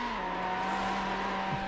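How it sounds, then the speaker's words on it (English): A car's engine winds down under engine braking while racing in Need for Speed: Hot Pursuit 2 on PS2, a steady loud droning engine tone with continuous road noise and no talking. "That is, I guess, my best expression of engine braking"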